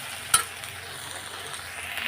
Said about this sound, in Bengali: এমনি একটুখানি ভাজা ভাজা হোক